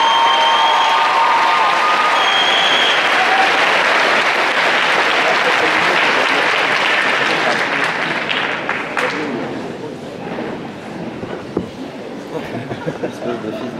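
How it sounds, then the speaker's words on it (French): An audience at a cosplay contest claps loudly for a Little Mermaid group, a thick roar of applause that thins into scattered claps toward the end, with a voice audible beneath it. "Je vous demande de les applaudir bien fort."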